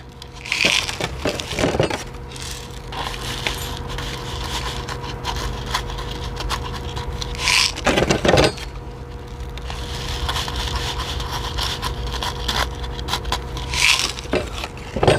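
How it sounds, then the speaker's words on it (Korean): Fine granular gravel soil is poured as top dressing into a rose pot, with gritty crunching and scraping that come in a few louder bursts over a quieter steady rustle, heard close up. "소림마사로 복토를 해주겠습니다"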